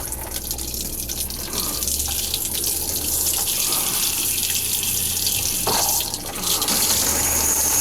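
Water runs from the shower of a 2012 Keystone Passport 3220 BH travel trailer, a steady hissing stream that continues unbroken and close by throughout.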